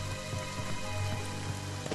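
Rain in the horror video game Friday the 13th, a steady dense patter with a low rumble underneath, continuous and moderately loud, no voices.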